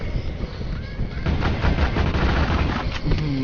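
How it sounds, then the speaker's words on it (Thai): Rapid bursts of gunfire in the video game Dead Swarm rattle continuously, dense and loud, with a few faint voice sounds mixed in. "ยิงรัวมาก ยิงรัว"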